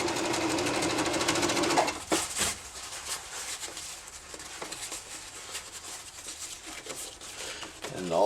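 A sewing machine stitches fabric for a cheap homemade kayak cockpit cover, a close rapid mechanical whir for about two seconds before stopping, then quiet rustling and faint clicks while a person talks.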